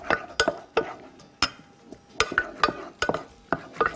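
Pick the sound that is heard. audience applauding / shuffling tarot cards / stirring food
stirring food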